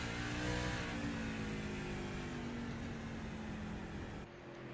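A race car engine holds a steady, loud throttle at North Wilkesboro Speedway, a continuous smooth drone with a faint pitch glide before a slight drop at the very end.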